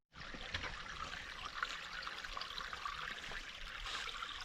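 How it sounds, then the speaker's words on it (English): A small creek flows at night near Dutchman Lake, giving a steady, fairly quiet trickle and babble of running water that continues unbroken throughout with no voices. "A little bit of creek for you."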